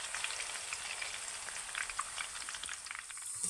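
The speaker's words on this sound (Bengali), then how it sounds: "এবার আমি ভালো করে ভেজে নেব একবার" Raw potato chips frying in oil, a quiet, continuous crackling sizzle with scattered pops, no talking.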